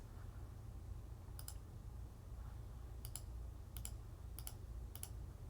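Sharp computer mouse clicks come in a few quick pairs and short bursts, faint and close, over a steady low hum with no talking.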